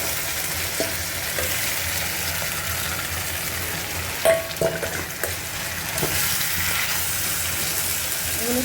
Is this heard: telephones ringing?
no